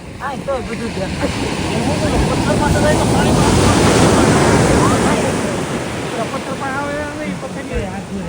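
Ocean surf roars steadily on a beach in Wales, with wind buffeting the microphone, a broad continuous wash that swells in the middle, with voices faintly underneath.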